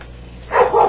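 Dogs bark in a brief burst, a couple of fairly loud woofs arriving after a quiet moment, with no one talking.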